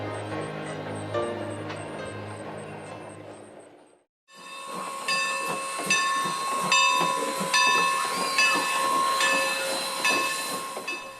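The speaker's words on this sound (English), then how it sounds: "a steam railroad that fits perfectly in this setting" Strasburg Railroad steam train: a low rumbling chuff fades to near silence, then a loud steady hiss of steam rises with a sustained whistle-like tone and rhythmic mechanical clanks close by.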